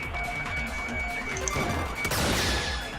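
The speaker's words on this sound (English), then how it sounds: "It sounded like something heavy fell down and hit the floor really hard." A heavy object falls and hits the floor hard in the Danganronpa V3 video game, a sudden crashing impact near the end over a steady background of game music.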